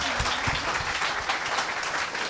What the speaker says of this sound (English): Everyone clap for that